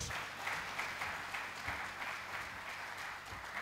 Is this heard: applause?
yes